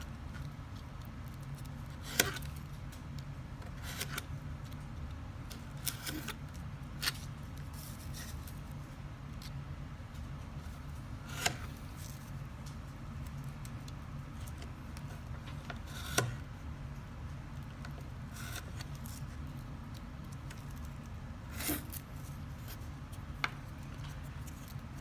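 A craft knife makes small cuts in folded paper for a snowflake: sparse, soft clicks and snips spaced several seconds apart over a faint steady room hum, with no talking.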